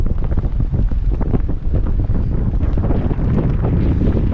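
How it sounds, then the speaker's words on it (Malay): Strong, gusty wind on the coast of the Strait of Malacca buffets the microphone with a loud, continuous low rumble that does not let up. "sebab sini memang angin sangat kuat, kencang sangat"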